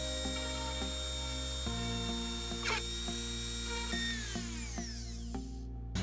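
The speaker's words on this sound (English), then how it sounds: "So let's go ahead and get that Dremel and cut a hole." Dremel rotary tool cutting a hole in a RAM truck bed for bull ring tie downs, a steady high whine that holds its pitch, then slowly drops as it bogs and finally cuts off, with no talking.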